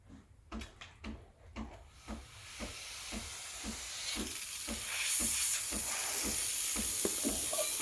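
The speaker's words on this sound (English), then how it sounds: "You want to turn on the steamer and wait. It will warm up and start steaming soon" A Breville Barista Express BES870 espresso machine's steam wand starts with a run of rhythmic pump thumps, then builds into a loud, steady hiss of steam close by.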